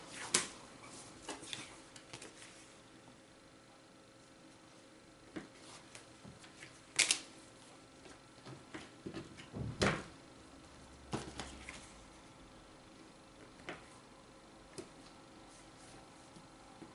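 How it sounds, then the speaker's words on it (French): A roll of flour tortilla dough is sliced into eight pieces on a work surface, giving soft, scattered taps and a few duller thumps spread over a quiet background, with no talking. "on va venir former un boudin et découper notre pâte"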